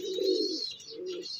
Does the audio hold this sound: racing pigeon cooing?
yes